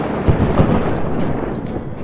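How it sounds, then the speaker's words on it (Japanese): A lightning strike in the video game WorldBox lands as a dense, rumbling crackle of loud, sustained noise with small bursts, like thunder mixed with explosions, and no speech. "こうやって雷を落とすと"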